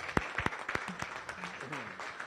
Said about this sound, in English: I would like a round of applause to these amazing volunteers.